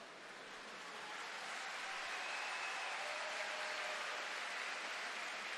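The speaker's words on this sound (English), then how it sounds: "Round of applause is for the departing goalkeeper, keepers" A crowd at a water polo match in a Hungary–Russia Universiade bronze final applauds the departing goalkeepers, a steady wash of clapping from the stands that swells slightly and holds.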